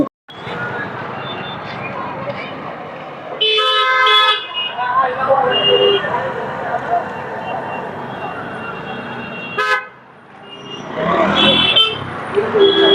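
Busy street noise near a beach market in Puri, with engines and passing vehicles, a few car horns honking, while a person talks over the traffic.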